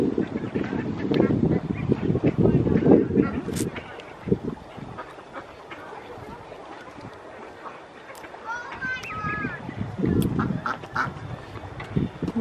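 Ducks quack at a park pond while children feed them, short calls breaking through busy, nearby voices and general outdoor chatter.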